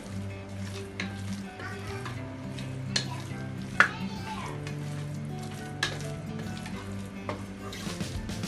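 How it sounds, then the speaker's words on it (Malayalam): Chicken with biryani masala being stirred in a pressure cooker: a steady close sizzle of frying broken by scattered scrapes and knocks of the spoon against the pot, with no talking. "ഇനി ഇതൊന്ന് ഇളക്കി നന്നായിട്ട് മിക്സ് ചെയ്യാം"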